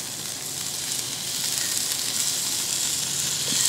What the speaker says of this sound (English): I'm gonna go ahead and start basting this with the barbecue sauce.